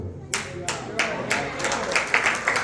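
A church congregation claps along for Jesus during a sermon, sharp rhythmic handclaps in a steady beat, loud and close in a reverberant hall.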